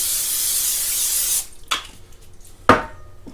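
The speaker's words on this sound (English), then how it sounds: "You definitely want to hit it with some cooking spray." Cooking spray hisses in one sustained burst of about 1.4 seconds onto a preheated $20 Farberware waffle iron from Walmart, followed by two short clanks or taps, close and fairly loud with no talking.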